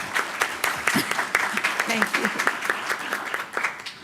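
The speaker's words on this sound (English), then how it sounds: "So that deserves a round of applause." Scattered, uneven applause from a small group at a school board meeting, with individual claps distinct and a voice briefly speaking over it.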